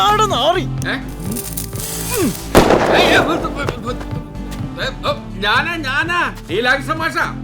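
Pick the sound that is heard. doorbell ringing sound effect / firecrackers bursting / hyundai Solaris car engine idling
firecrackers bursting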